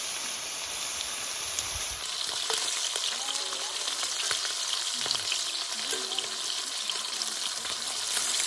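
Bacon for grilled cheese crackles and sizzles in a pan on a camp stove, outdoors at an overland campsite, a steady, close frying hiss with faint stirring and scraping over it.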